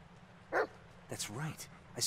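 A dog barks in the horror video game Blair Witch, a short yip near the start followed by a few quick whimpering barks, moderately loud over a low droning ambient hum.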